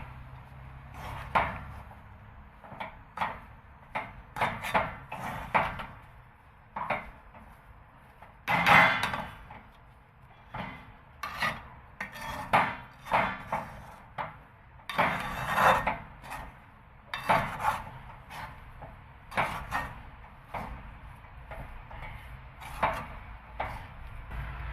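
Makhana and peanut sweet being mixed in a pan with a utensil: repeated wooden knocks and scraping clatters in an irregular rhythm, close and fairly quiet, with no talk.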